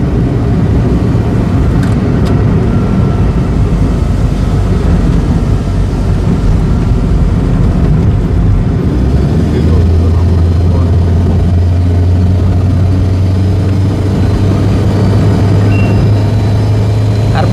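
A Kia Picanto cruising at about 80 on a wet single-lane road in light rain gives a steady, loud engine and tyre rumble from inside the car, unbroken and without talk.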